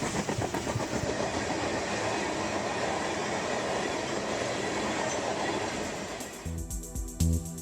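A train rolls past on tracks beside a park, a loud continuous rumble of wheels and cars with rhythmic clatter, ending in a few heavy thumps as it fades.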